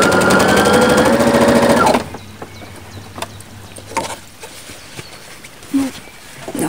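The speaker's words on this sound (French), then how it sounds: "on va passer à coudre notre couture cachée comme tout à l'heure." Sewing machine stitching a seam on a small salmon-colored party dress, a loud close buzzing run that stops after two seconds, followed by quiet handling clicks and soft bumps.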